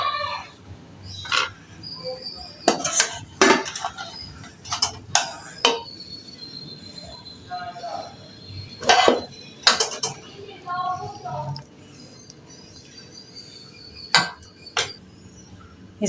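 A cooked dish of onion and bitter gourd being served out with utensils: sharp metallic clinks and scrapes of spoon on pan and plate in irregular bursts, with someone talking between them.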